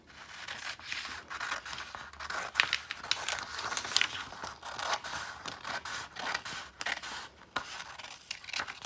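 Scissors snip steadily through a sheet of A4 paper, cutting it in half with a continuous run of close, crisp crunching strokes.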